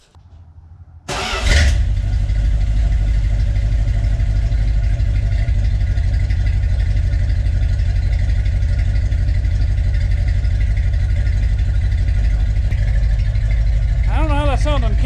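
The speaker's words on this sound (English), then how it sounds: "So I think we might be able to do a cold start on this thing and see how it sounds." A Dodge Coronet fitted with a new exhaust cold-starts after a second of quiet, then settles into a loud, steady, throaty idle that runs close and unbroken to the end, with a brief voice near the finish.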